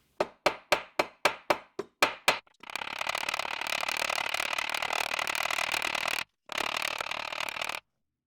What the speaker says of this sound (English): Use the ball end to peen over the excess material.